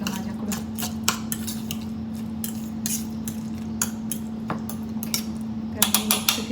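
A spoon scrapes and clinks repeatedly against a bowl while avocado sandwich paste is mixed, a steady stream of close utensil taps and scrapes over a constant low hum.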